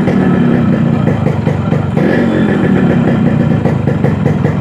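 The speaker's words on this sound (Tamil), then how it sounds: "இன்ஜின் சவுண்ட் எப்படி இருக்குன்னு பாருங்கள்." A restored Yamaha RX100 motorcycle idles steadily and loudly up close, its engine and silencer beat holding an even, continuous rumble with no talk.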